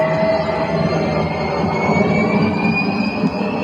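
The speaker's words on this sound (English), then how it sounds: "That's the beginning of the engine sound." Engine sound effect from a 1/6 scale metal radio control model tank, a steady dense mechanical rumble with a faint rising whine, continuous and loud throughout.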